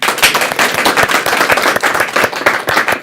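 An audience claps at a television talk show, a dense burst of many hands with no voices over it, loud and sustained across the whole moment.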